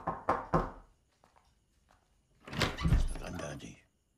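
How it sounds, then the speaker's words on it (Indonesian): Three sharp, close knocks land on a door in quick succession. After a short quiet, a longer, louder rustling or shuffling burst follows. "tiba-tiba terdengar suara orang yang mengetuk pintunya"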